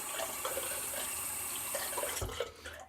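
Steady running water from a tap while someone rinses off, a continuous hiss with small splashing changes that fades out at the end.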